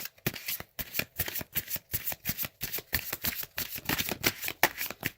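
Tarot cards shuffled by hand in rapid, uneven bursts of riffling and flicking for several seconds, close and crisp with no voices over them.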